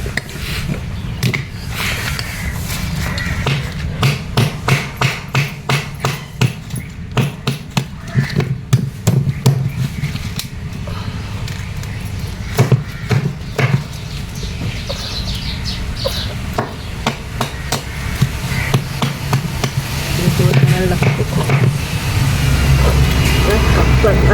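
Oyster shells from the sea being cracked open by hand, giving repeated sharp cracking and knocking hits in irregular bursts, close and fairly loud, with people talking throughout.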